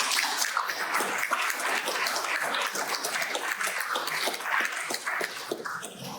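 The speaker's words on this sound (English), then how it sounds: "Big round of applause for this panel." A panel-discussion audience gives a round of applause, a loud, busy burst of many hands with sharp, uneven claps that keeps going for several seconds before tapering slightly.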